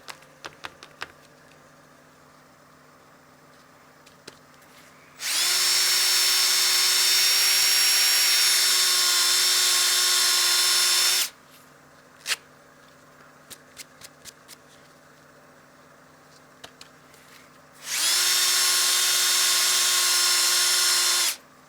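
A wood lathe spins while a dyed wood platter is sanded, giving a loud whining roar that runs for about six seconds, stops, and returns later. Quiet clicks and handling noises fill the gaps.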